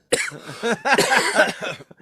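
A man's harsh, rough coughing fit: a string of several rapid hacking coughs close up, with no talking.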